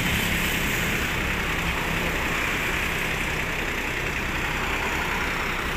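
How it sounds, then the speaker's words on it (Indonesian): Truck engine idling steadily and close by, a freshly washed Indonesian truck with its motor left running, giving a continuous low rumble with a broad hiss and no speech. "Ini unitnya juga masih dinyalain mesinnya teman-teman"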